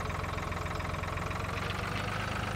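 Tractor engine in the Farming Simulator 2013 video game runs at a steady idle, a constant low rumble with even pulsing that carries on alone without interruption.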